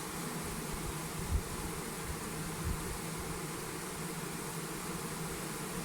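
A honey bee swarm pouring into a hive during the 2023 swarming season, the fourth swarm, heard as a dense, constant buzzing hum of many insects close by, with a couple of faint bumps.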